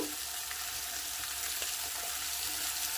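Spice paste hitting hot oil for a Bengali rohu fish curry with drumstick, giving a steady, close frying sizzle that holds an even level throughout with faint bubbling and crackle.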